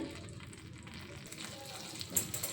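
Butter melts and sizzles in a pan for Maggi noodles: a soft, steady, hissing fry, fairly faint and close, with a slight rise in crackle near the end.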